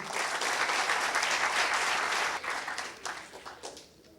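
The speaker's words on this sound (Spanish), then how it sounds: "le recibamos con un fuerte voto de aplauso" Audience applause greets a speaker at a technical seminar on steels, dense and loud clapping that holds steady before thinning into scattered claps and dying away.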